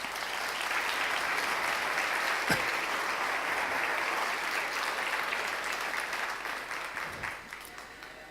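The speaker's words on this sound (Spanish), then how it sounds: "Dale un aplauso a Jesús por ello." A church congregation applauds during a sermon, a steady, moderately distant roar of many hands clapping that slowly thins toward the end.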